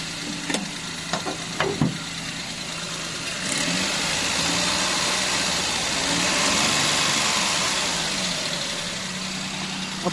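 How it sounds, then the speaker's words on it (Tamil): A Maruti Alto LXi 800cc engine idles in a steady, close mid-pitched hum, preceded by a few sharp clicks and knocks at the start. "இப்போ இன்ஜின் ரூமையும் இன்ஜின் சவுண்டையும் கேட்டுடலாங்க."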